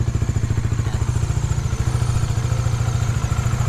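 A Bajaj Dominar 400 motorcycle with dual exhaust idles up close, its engine thumping in a steady, rapid, loud rhythm that holds constant throughout with no talking.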